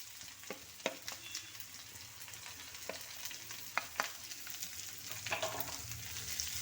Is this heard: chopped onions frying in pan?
yes